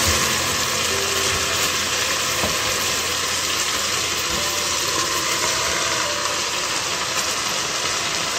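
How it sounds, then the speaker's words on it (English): Onions sizzle steadily in hot ghee in a pan, a dense, loud, continuous crackling hiss close by with no talking. "what we're going to do is put in the onions now. I put in some ghee."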